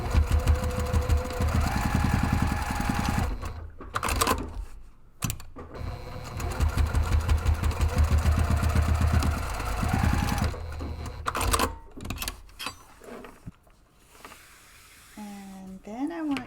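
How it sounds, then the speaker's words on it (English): Sewing machine stitching two rows on a strap for a padded camera bag, a rapid mechanical chatter in two long runs broken by short pauses, with faint handling noises between. "I'm going to run 2 rows of stitching to secure that."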